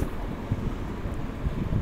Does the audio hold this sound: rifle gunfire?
no